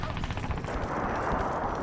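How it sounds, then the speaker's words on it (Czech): Dense gunfire rattles through a Crysis 3 multiplayer match, a continuous stream of rapid shots that is loud and fairly close. "Tamhle po někom střílí."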